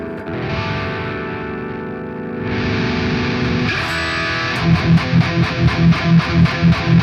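Electric guitar played through a Nutcracker distortion pedal: loud sustained overdriven chords ring for about four seconds, then give way to a tight, rhythmic run of palm-muted chugging strums.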